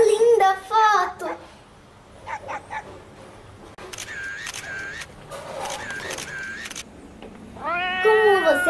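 A kitten's high, wavering meows come in short bursts at the start and end, with quieter, thinner mews and soft background noise in between.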